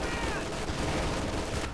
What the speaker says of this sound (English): Rifle grenade there lands nicely.